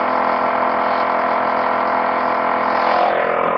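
A shop air compressor runs steadily nearby, a constant droning whir with a layered mechanical hum, loud and alone, swelling slightly toward the end.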